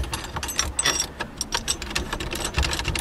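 A hand tool ratchets rapidly and unevenly while a part is screwed on during repairs to a 1989 Dodge Daytona ES, with close mechanical clicking and whirring that continues throughout and no talking.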